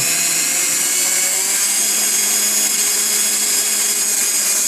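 A Dremel rotary tool whirs steadily at medium speed, about 15,000 to 23,000 RPM, before cutting a spent bullet shell casing; a constant high-pitched motor whine runs alone and loud throughout.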